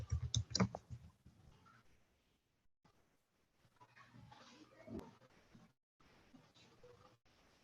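Someone types a short npm version command on a computer keyboard. A close burst of sharp key clicks comes first, then sparse, softer taps and faint room noise follow.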